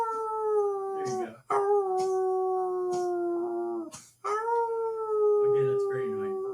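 An old dog lets out long, steady howls, three extended drawn-out calls with brief pauses between them, close and loud.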